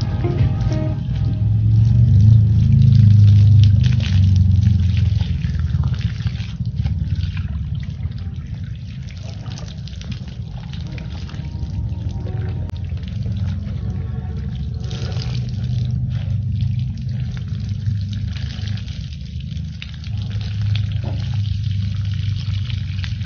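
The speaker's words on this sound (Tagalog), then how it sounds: "sobrang lakas ng tubig dito guys, makikita nyo guys" Strong water rushes in a forest stream, a loud, continuous churning flow that stays steady and close throughout, with no talking.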